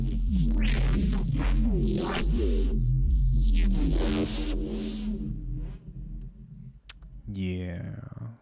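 Lo-fi hip-hop drum loop run through a multiband filter, high pass on the lows, band pass on the mids and low pass on the highs, giving a thumping, muffled beat with clicky transients that briefly cuts out near the end.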